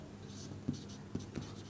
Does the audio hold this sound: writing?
yes